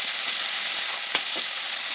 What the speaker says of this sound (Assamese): তেলত আদা নহৰু দিম